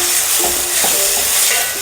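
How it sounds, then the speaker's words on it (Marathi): Tomato gravy fries with onions in oil, giving a loud, dense, continuous sizzle close at hand. Faint stirring sounds run under it and no one talks. "आता मी टमाट्याची ग्रेव्ही टाकून देते यामध्ये. मस्त आपल्याला तेल सुटेपर्यंत टमाट्याची ग्रेव्ही भाजून घ्यायची."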